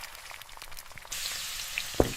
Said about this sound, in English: The eggs are frying gently.